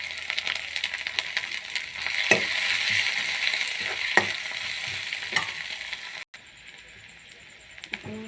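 Ginger, garlic and cumin paste fries with spice powder for a lentil dish, a steady bright hissing sizzle close by, broken by a few sharp clinks of a spoon against the pan, with no talk.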